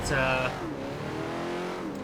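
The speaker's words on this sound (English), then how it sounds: "that one I am driving the M5 BMW" A BMW M5 sedan engine in the racing game Forza Horizon 4 revs up with a rising tonal whine, then settles into a sustained steady drone, while a voice talks over it.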